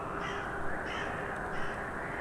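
A raven gives a few harsh, rasping croaks over a dense, steady background wash, fairly close and unaccompanied by speech.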